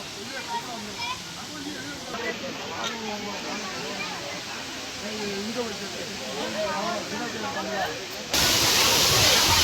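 Steady broad roar of the Agasthiyar waterfall at Papanasam in a forest setting, heard close and constant, with voices chattering beneath it before the rush grows suddenly louder near the end.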